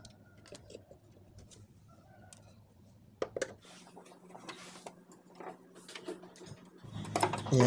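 A Phillips screwdriver unscrews the speaker screws from a TV, giving faint clicking, ticking and scraping in a quiet room, then louder handling and rattling toward the end.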